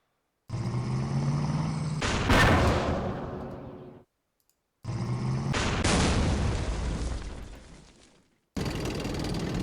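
Artillery gunfire and explosions from the World War II wargame Rising Sun, Fall of the Philippines: two loud, separate firing sequences, each opening with a sharp blast that rolls into a long decaying rumble, with a third beginning at the end.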